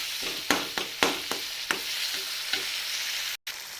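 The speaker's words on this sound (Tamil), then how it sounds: "ஸோ தக்காளி வந்து நல்லா ஜூஸியாக வதங்கிடுச்சு." Tomatoes sauté in hot oil for chilli idli, keeping up a constant close sizzle while a spoon stirs and scrapes the pan in several sharp, irregular taps.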